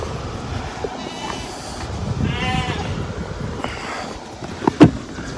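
Sheep bleat outdoors on a farm: one wavering, fairly loud bleat in the middle over a steady rumbling background, with fainter calls around it and a sharp knock near the end.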